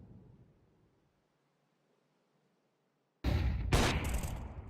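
Flashbang grenade going off in the Crossfire shooter game: after near silence, a sudden loud bang with a sharp crack and ringing, noisy tail, close and alone.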